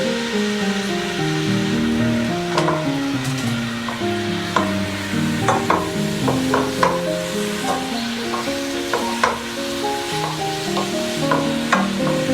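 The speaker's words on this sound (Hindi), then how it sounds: "अब हम इसमें ये प्याज ऐड करेंगे।" Chopped onions frying in about a cup and a half of cooking oil for chicken biryani give a loud, steady, close sizzle, with occasional light stirring clinks over the bubbling.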